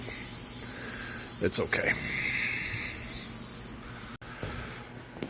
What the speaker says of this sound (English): So I'm spraying a little bit of that on some stuff